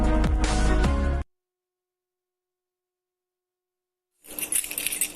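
Keys jangle in a home advertisement: a bright metallic jingling rustle rises after a burst of music and a stretch of silence, fairly loud and close.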